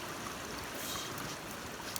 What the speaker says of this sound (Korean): 바로 앞이 계곡이라서 물 흐르는 소리도 들리고